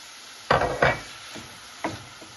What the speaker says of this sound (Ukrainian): Коли вершкове масло розтопиться та розігріється